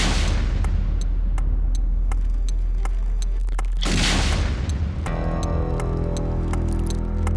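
A loud explosion blast in Jammu and Kashmir erupts around the four-second mark, a broad roaring burst over steady low rumble and scattered crackling, followed by a sustained humming drone.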